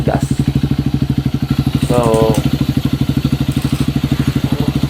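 A Honda CRF150 motorcycle fitted with a Yoshimura exhaust idles loudly and close by with a steady, rapid, popping beat. Someone speaks briefly over the engine.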